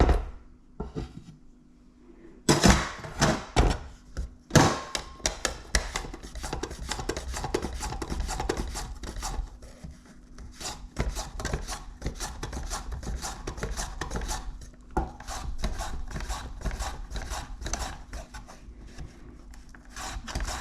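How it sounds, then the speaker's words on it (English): Potatoes being sliced thin on a mandoline for dauphinoise, a run of rapid, rhythmic scraping slices that starts with a few heavy strokes and then settles into a steady, close, repeating swish. "I'm going to use a mandolin for, you can slice the potatoes how you want, but this gets them nice and thin"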